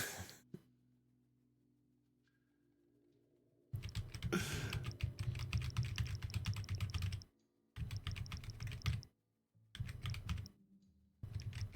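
Keyboard typing in bursts: fast clattering keystrokes in several separate runs, with quiet pauses between them and a single click near the start.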